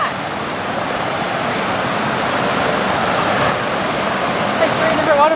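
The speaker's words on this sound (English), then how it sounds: "Like 3 different waterfalls all flowing in." Three waterfalls pour into pools at Gold Bug Hot Springs, a loud, constant rushing roar that stays steady from start to finish.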